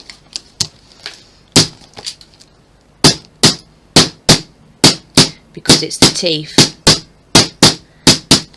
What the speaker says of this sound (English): so I bang into the teeth using my little hammer